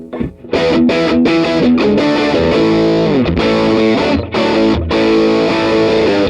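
Electric guitar played through overdrive, thick and saturated chords ringing out continuously with brief gaps between strums, loud and close.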